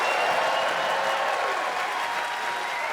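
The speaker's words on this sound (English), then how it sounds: "Can I get a round of applause for all the staff at the Pavilion Theatre?" Theatre audience at the Pavilion Theatre in Glasgow applauding the staff after a comedy show, a dense, steady wash of many hands clapping that holds loud throughout and eases slightly toward the end.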